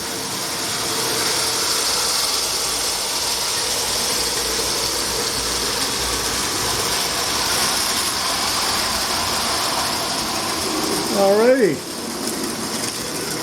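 A gray and yellow Marx E7 Western Pacific diesel toy train, A-B-A set, runs with its throttle raised to climb a hill, giving a steady close motor whir and track rattle; a brief voice speaks near the end.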